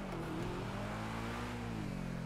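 Truffade Nero, the Bugatti Chiron-style hypercar in GTA 5, cruises with a continuous engine drone that holds steady and then gently shifts pitch. The engine note is the only sound, with no talking.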